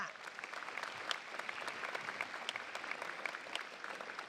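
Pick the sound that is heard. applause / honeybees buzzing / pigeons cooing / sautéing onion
applause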